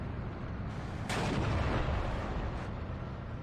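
Tank gunfire in the WWII strategy game Steel Division 2, with distant muffled cannon booms over a steady low rumble of battle ambience, no speech.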